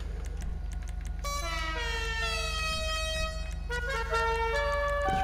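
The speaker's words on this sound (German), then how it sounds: "eine Hupe." A car horn sounds in GTA Online while a Karin Sultan is being tuned, playing a series of bright tonal toots with changing pitches like a melody over a low engine hum. No one talks.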